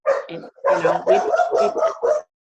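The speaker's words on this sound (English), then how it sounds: "would have the dogs barking" A dog barks in a quick, loud burst of several yips and barks close by, ending abruptly.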